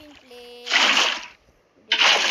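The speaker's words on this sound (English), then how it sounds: "now let's put water" Water blocks being placed in Minecraft, two bright splashing bursts separated by a short pause, loud and close after a few faint tonal game blips.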